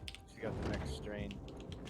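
Fast clicking of a computer keyboard during a zombie game session, a steady patter of keystrokes close by with a voice talking over it.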